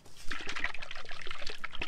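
Water trickles and dribbles out of a coconut, a close, bright run of small splashes and drips in quick irregular succession.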